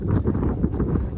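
Steady clip-clopping of a mare's hooves at a quick, even pace, with gusty wind noise rumbling over the microphone.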